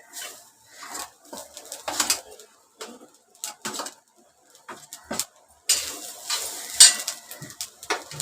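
Fresh grated coconut dry-roasting in a pan, stirred with a spatula: intermittent soft scraping and light sizzling strokes, close and fairly quiet, in irregular bursts with pauses between.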